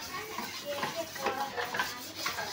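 Dishes, pots and utensils are washed by hand, with soft clinking and scraping of metal and running water heard fairly faintly and steadily for a few seconds.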